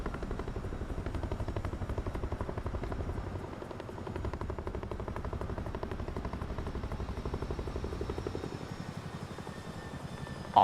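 Steady rhythmic rotor thump of a helicopter, with a Chinook among the aircraft around, in Microsoft Flight Simulator 2024 on PS5 Pro, continuous and even throughout at moderate loudness, with no talk.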